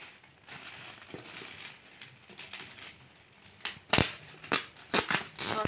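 Anniversary gifts are unwrapped at home: soft rustling and crinkling of wrapping paper that builds into louder, irregular bursts of tearing and crumpling, close to the microphone with no voices.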